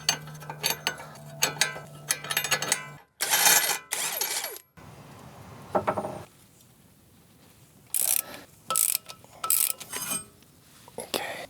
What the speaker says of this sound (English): we need to lock it in place with an Allen wrench and a 22 socket to loosen it